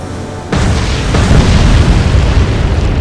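Torpedo explosions strike and sink a destroyer in the naval strategy game Atlantic Fleet: a sudden loud boom, a second blast about half a second later, then a sustained heavy rumble with no talking.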